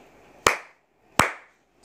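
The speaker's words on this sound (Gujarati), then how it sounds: "મિત્રો આ વખતે બે તાળી વાગી" Two sharp hand claps, well apart in near-silence, each a crisp single smack with a brief decay, as used in a third-grade Gujarati lesson activity.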